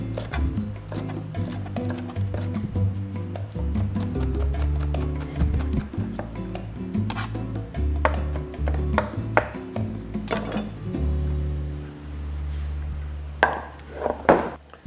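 A knife chops jalapeno on a cutting board in quick bursts of sharp, close taps with short pauses, over a low steady background hum.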